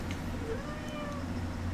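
Moon Pie, a pet cat, gives a single soft, drawn-out meow close by against a quiet room hum.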